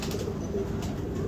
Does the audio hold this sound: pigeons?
yes